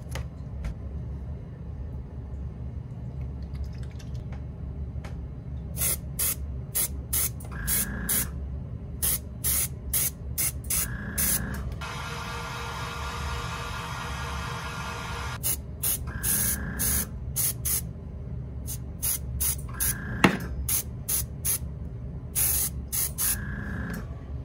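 Airbrush spraying gold paint onto a crankbait fishing lure in repeated short hissing bursts, with one longer continuous spray in the middle, close and crisp over a low steady room hum.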